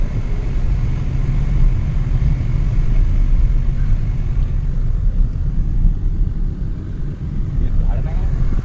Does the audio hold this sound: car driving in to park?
yes